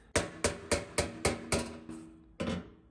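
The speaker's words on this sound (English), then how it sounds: "And then if I hammer it," A hammer strikes stretched sheet metal on a homemade bumper, seven sharp ringing blows in a steady rhythm after a pause before the last, close and clear with no talk.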